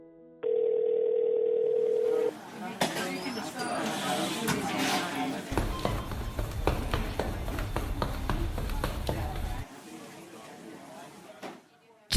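A steady telephone dial tone sounds alone for about two seconds while a call is placed, then gives way to busy background noise, rustling and scattered sounds.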